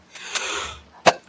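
A single person sneezes close by, a short breathy intake building up before one sharp, loud burst at the end.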